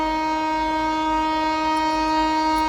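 A train passes close by with a long, loud, sustained horn blast held steady for the whole stretch over a low rumble.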